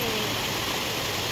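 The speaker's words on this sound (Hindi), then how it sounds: "बढ़िया झरना" A waterfall at a hill site rushes in a steady, dense, hissing wash of falling water, continuous and fairly loud throughout with no breaks.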